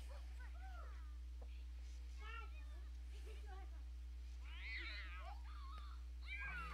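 A cat meows and yowls repeatedly in The Sims 4 video game, a series of short mid-level cries over a steady low hum, with someone talking at times.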